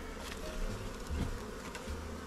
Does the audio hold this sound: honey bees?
yes